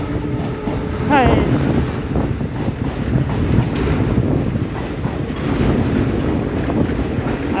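A passenger train hauled by a WDP4D diesel locomotive rumbles along on a parallel track near Bareilly, a steady roar of wheels and wind buffeting close by, with voices talking over it.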